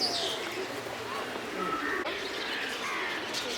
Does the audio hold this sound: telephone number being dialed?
no